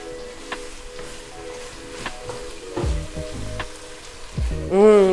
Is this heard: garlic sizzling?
yes